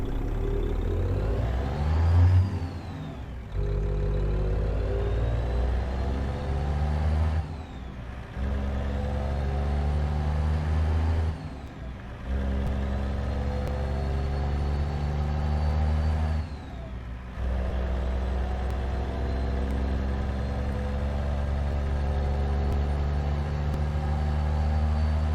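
Heavy-haul truck engine in American Truck Simulator droning low and steady, with revs rising through gears and brief dips at each shift, loud and close with no talking.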